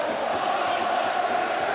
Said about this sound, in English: that's exactly why the crowd are raising the noise